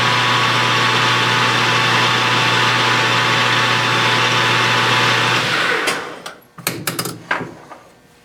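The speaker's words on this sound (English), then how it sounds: "I'm going to center drill and then drill the hole" A lathe runs with a steady hum while center drilling a hole in a governor spool. After about five seconds the machine winds down, and a few sharp metallic clanks and knocks follow.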